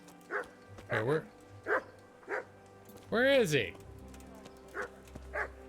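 A dog barks repeatedly in short, evenly spaced woofs, with one longer howling bark midway, in the medieval game Kingdom Come: Deliverance, while a person talks briefly over it.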